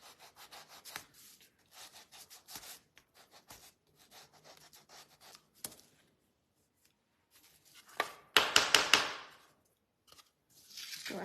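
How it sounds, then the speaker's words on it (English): Sandpaper rubbing over a wood shelf in short, scattered strokes with pauses between, building to a louder, rougher burst of sanding near the end, close and alone without talk. "I'm gonna have to sand this as well"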